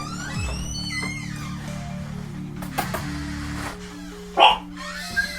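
A small dog yips and barks a few times, high and sharp, over a steady low hum and electronic tones, with one louder bark near the end.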